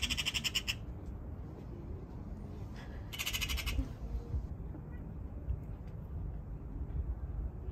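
A bird squawks as a cat catches it, two short shrill bursts of cries near the start and middle, rising above a low outdoor rumble and ambient noise.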